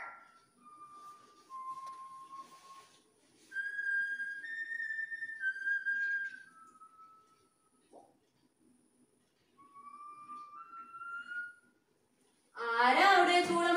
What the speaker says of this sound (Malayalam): ആരാ അവിടെ ചൂളമടിക്കുന്നത്?